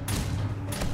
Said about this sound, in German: Hat gerade einer geschossen.